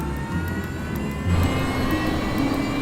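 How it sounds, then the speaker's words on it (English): Jet engine of a Fokker F-28 airliner spooling up on start, a loud steady roar with a low rumble and rising tonal whine that builds partway through, with no talk. "Captain Morwood uses the power of engine number 2, already running, to fire engine number 1."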